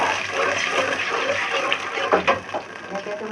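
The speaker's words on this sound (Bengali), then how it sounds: "পানি দিয়ে দিলাম একটু," Water pours into a cooking pot of taro being cooked with beef and spices, a brief gushing splash that settles into sizzling and bubbling.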